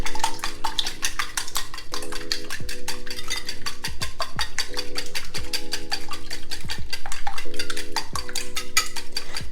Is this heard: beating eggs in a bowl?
yes